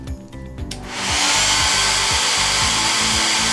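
A hair dryer drying chalk paste switches on after a second of quieter handling noise, then runs loud and steady as a close, continuous rushing whoosh with a low motor hum.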